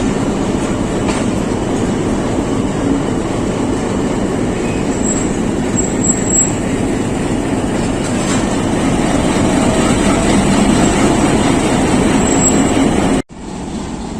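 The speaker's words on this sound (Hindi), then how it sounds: "रहमान बाबा एक्सप्रेस का rack Peshawar cantt railway station पे प्लेस हो रहा है" The Rehman Baba Express train rake rolls into Peshawar Cantt railway station with a loud, steady rumble and clatter of wheels on track, faint squeals, ending in an abrupt cut.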